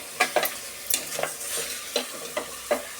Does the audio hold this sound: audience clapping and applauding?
no